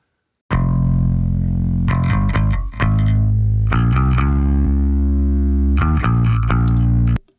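Picked electric bass track with a de-esser taming aggressive pick clicks, sustained distorted tones in steady phrases that change pitch a few times, loud and close with no talking.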